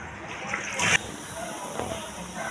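Water poured into cooked dal for a manathakkali keerai kuzhambu, a soft steady splashing and sloshing with a brief louder splash, close by and without talk.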